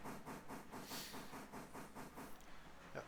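A train in a railroad simulation game rolls along with a steady hiss and rhythmic clickety-clack of wheels over rail joints, moderately loud and continuous with no talking.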